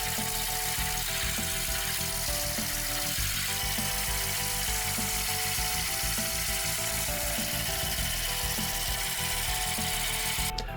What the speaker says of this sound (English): Right now, I'm just focusing on refining the outline, grinding down to that marked oval shape.